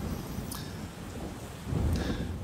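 Steady rain with rolling thunder on a rainy night in the video game Persona 4 Golden, a continuous wash of downpour with a deeper rumble swelling near the end.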